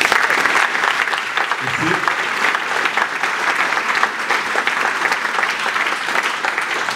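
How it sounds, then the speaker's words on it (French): An audience claps in sustained, dense applause inside the town hall at Court. One short spoken word of thanks is heard near the start. "Je vous propose qu'on l'applaudisse."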